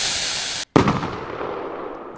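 Fireworks burst in the PC game Firework Simulator: a loud crackling shower cuts off abruptly, then a fresh explosion rings out and decays into a long fizzing tail.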